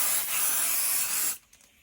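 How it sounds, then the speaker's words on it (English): An aerosol adhesive sprays a good coat onto a journal cover: one steady, close, loud hiss lasting over a second, then cutting off to near silence with faint handling noise. "I'm going to spray onto there."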